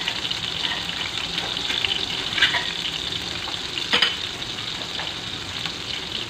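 Tomatoes fry in a pan, giving a steady, dense sizzle throughout, with a couple of brief clinks as they are stirred, and no talking.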